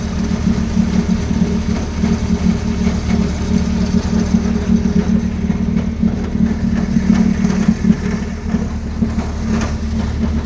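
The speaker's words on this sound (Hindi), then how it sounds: "रुक रुक के ट्रैक्टर चलता हुआ" A tractor engine runs steadily in a wet field, a loud, close, low droning rumble with an even throb that keeps going throughout without talking.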